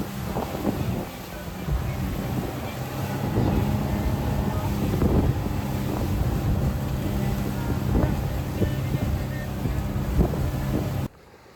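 A speedboat crosses Rayong Bay toward Koh Samet Island, its loud engine drone mixed with heavy wind buffeting on the microphone for most of the ride.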